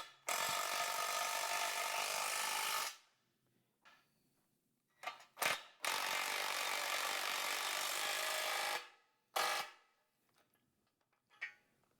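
A ratchet tightens bolts on a squat stand frame, with two long bursts of rapid ratcheting, each a few seconds, and a few short clicks and rubs between them in a quiet room.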